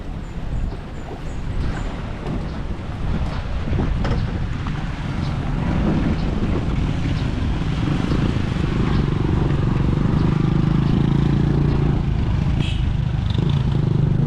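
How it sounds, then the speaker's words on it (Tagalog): Boat motors drone on the water at the Talim Island port in Binangonan, Rizal, Philippines, a steady low hum mixed with gusty wind buffeting the microphone. "Mga bangka nila medyo malalaki din eh."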